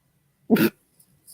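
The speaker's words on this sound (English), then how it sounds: "my dog was barking" A single short dog bark sounds once at moderate distance, followed by near silence with a couple of faint small noises.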